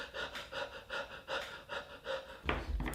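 Rhythmic breathing drawn in and pushed out through the nose and cheeks while playing a jaw harp in the hillbilly breathing style, about eight even breaths in quick succession, close and fairly loud, ending in a louder burst.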